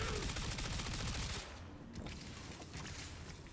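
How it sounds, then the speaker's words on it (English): A Stug weapon in Warframe fires its full magazine in a rapid, dense stream of shots for about a second and a half, loud and close, then gives way to a quieter spread of crackling impacts. "so I shot the entire magazine there"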